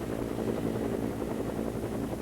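Helicopter rotor and engine drone close by and steady throughout, recorded from aboard during aerial filming of Hurricane Hugo in 1989, with no talking.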